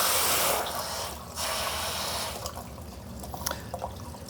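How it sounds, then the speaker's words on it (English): Water drains from a hot water heater, starting as a loud rushing flow that sputters and breaks into gurgles and drips toward the end. "it's allowing that water to flow through this hot water heater pretty easy"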